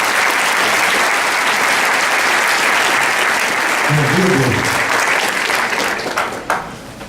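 Audience at a lawyers' swearing-in ceremony of the OAB/PR Londrina subsection claps steadily for the speakers, a dense sustained applause filling the hall, with some voices surfacing midway before it tapers off.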